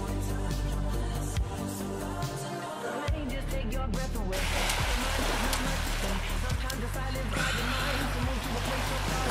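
Cold stream water rushes and splashes close by with a steady broadband wash, growing louder and brighter partway through as someone dips into it; a voice is briefly heard.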